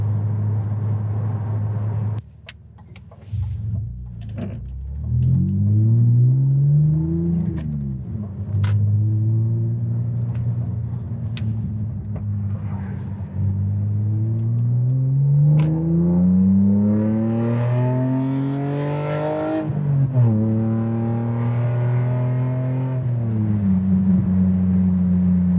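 A BMW convertible with new exhaust resonators cruises on a highway, its engine droning low and steady, rising in pitch through several gear changes under constant wind and road rumble.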